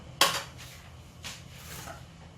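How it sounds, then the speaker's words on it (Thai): Metal pot lid set down onto a pot of Thai jungle curry with chicken and pickled bamboo shoots, one sharp close clank followed by a couple of softer rattles over a quiet kitchen hum. "แล้วก็ปิดฝานะคะ"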